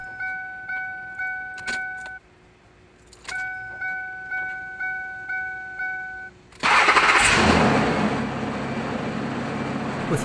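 An old truck, with a new fuel filter, gets its key cycled on and off, giving repeated fuel-pump and chime pulses. Then the engine cranks and catches, settling into a loud, steady idle close by.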